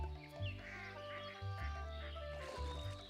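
Horned coots calling on a calm freshwater wetland give repeated nasal, honking calls in a few bursts, fairly close and clear against quiet water, with no talk.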